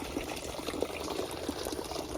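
Water from an irrigation bore in a field runs out in a steady, close, gurgling wash, with rain-soaked farmland around and no voices over it.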